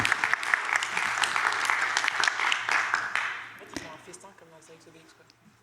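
An audience applauds after a talk, a dense burst of clapping that fades out over a few seconds, leaving a quiet room with faint murmurs and a final bump.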